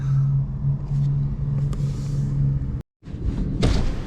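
A gasoline car engine idles at a gas station in the Philippines with a steady, low humming rumble. The sound cuts out briefly, then returns with a louder rumble and a thump.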